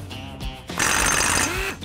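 A ratchet with a 19 mm socket cranks hard to break loose the upper ball joint nut on a Can-Am Maverick X3 suspension, giving a loud burst of clicking and grinding mid-clip with knocks before and after.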